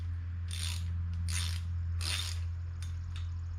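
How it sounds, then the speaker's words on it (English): A ratchet wrench loosens the bolts on the lift cover of a Ford Jubilee tractor, three quick bursts of clicking pawl followed by two fainter ones over a constant low hum. "Okay, I needed a bigger ratchet there."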